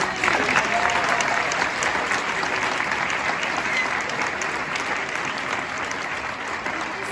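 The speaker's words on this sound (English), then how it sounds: "Can we have a round of applause for this?" A large audience gives a sustained round of applause at a University of Bradford chancellor event, dense steady clapping close by at an even loudness throughout, with faint voices beneath.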